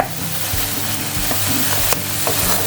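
Onions cooking in a pan with a little water for potol posto, a steady close sizzle with occasional scraping stirs and clinks, no talking.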